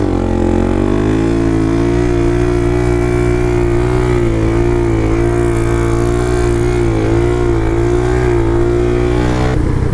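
Pit bike engines, Honda CRF110 and Kawasaki KLX110, revving loudly and steadily on dirt trails, with rising and falling pitch close by and no talking.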